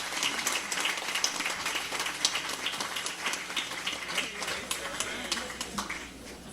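An audience at a fundraiser claps in a tent, giving dense, sustained applause with sharp scattered claps that carry steadily throughout.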